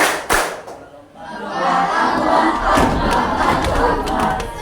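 A crowd cheers and shouts loudly after a sharp opening thump, with a steady roar of many voices and scattered claps filling the space.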